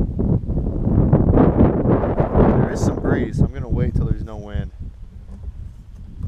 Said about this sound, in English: I'm gonna wait till there's no wind.